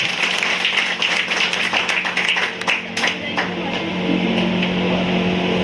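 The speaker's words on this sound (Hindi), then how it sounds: "तो अच्छे से ताली बजाओ" Audience clapping during a sales training seminar, a continuous patter of many hands with a few sharper individual claps, steady and fairly loud under a low room hum.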